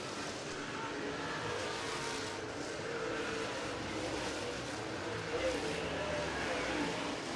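Tri-State late model race cars at Raceway Park, Interstate Speedway, make a continuous blended engine roar as the field races around the track, heard under steady commentary.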